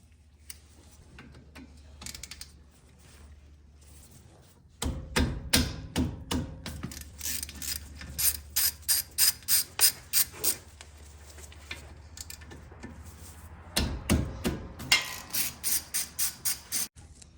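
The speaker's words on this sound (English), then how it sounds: "we need a 12mm socket to take the caliper off" Ratchet wrench fitted with a 12mm socket loosening the brake caliper bolts on a 2016-2021 Honda Civic, giving rapid rhythmic clicking bursts in several runs with brief pauses between, close and crisp, with no talk.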